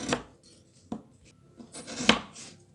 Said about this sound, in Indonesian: menyisir gulanya menjadi kecil-kecil agar nanti lebih mudah terlarut ke dalam air